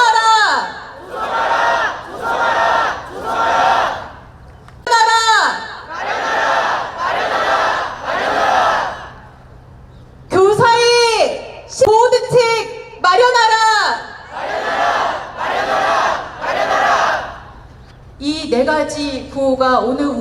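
A crowd at a memorial rally for a middle school teacher in Jeju, held at the provincial education office, chants together in loud, close, unison bursts, repeating short phrases in a steady rhythm with brief pauses between.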